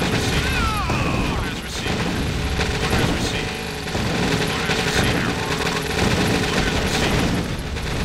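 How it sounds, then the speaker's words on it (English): Cluster missile launch and strike in Red Alert 2, Reloaded Mod: a loud, dense wash of explosions, mechanical clatter and rattling gunfire fills the whole stretch, with a rising whistle near the start. "Warning. Cluster missile launch detected."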